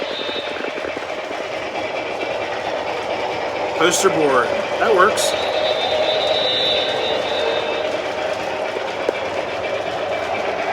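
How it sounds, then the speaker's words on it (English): A locomotive engine pulls a work train with a steady rumbling drone and a few brief pitched tones, heard at moderate volume under people talking nearby. "the actual engine pulling the work train that we switched out"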